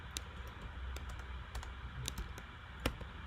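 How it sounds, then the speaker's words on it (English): Computer keyboard typing, faint and steady, with irregular soft key clicks and a few sharper taps over a low room hum, no voices. "I can't type today though"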